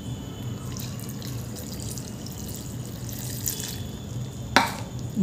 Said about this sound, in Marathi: इथे आपण पाणी घालून घेतलेलं आहे